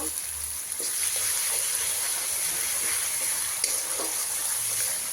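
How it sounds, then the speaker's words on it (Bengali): Ginger paste and green chilies sizzle in hot oil in a pan, a steady close hiss with occasional stirring scrapes throughout. "আদা কাঁচা লঙ্কা দিয়ে একটু ভেজে নেব।"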